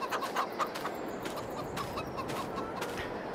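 In the Farming Simulator 22 video game, chickens cluck in quick, soft bursts over a steady background hiss. The clucks are moderately close and come irregularly, with no talking.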